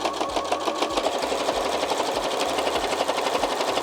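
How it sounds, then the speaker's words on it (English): A sewing machine top-stitches two rows along the folded edges of a scrap-fabric ruffle tote's handles and ties, its needle chattering in a fast, even, close rhythm that never pauses. "I'm going to be sewing 2 rows of stitches about 1/8 of an inch away from each of the folded edges."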